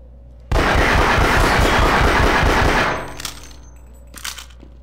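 Automatic gunfire from a weapon in the video game Half-Life: Source rattles loud and close as a rapid, continuous burst for over two seconds, then cuts off into faint clanks and reverberant echoes.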